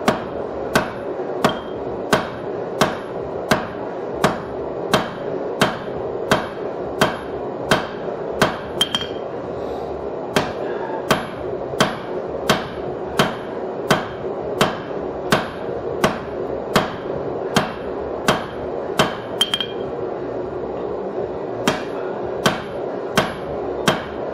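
Hammer strikes on hot steel on an anvil, tapering stock while forging a hardy cut-off tool: loud, close, evenly spaced ringing blows in a steady rhythm, with a few brief pauses and no talk.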